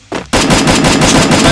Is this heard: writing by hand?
no